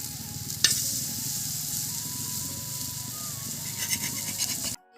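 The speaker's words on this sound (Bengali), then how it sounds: "এবার তিলের বড়াগুলো আমি আস্তে আস্তে উল্টে নেব, যেন ভেঙে না যায়।" Sesame fritters fry in hot oil with a continuous close crackling sizzle, broken by a sharp clatter early on and a few scraping touches near the end before a sudden cutoff.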